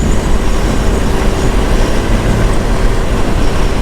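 A train rolls along rails near a small station, heard from close alongside a moving motorcycle, with a loud, steady rumble and rush of wheels that holds throughout.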